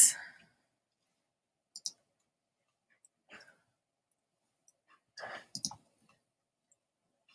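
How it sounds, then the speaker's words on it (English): Computer mouse clicks while shift-clicking to select photos: a few sharp, isolated clicks, some in quick pairs, scattered over near silence with a bit of faint background sound. "And I'm just shift clicking to select them all and opening."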